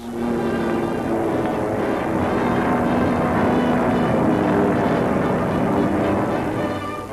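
A French propeller airliner of the early post-war years flies past, its engine drone steady, loud and continuous throughout with a broad tonal hum and no talking.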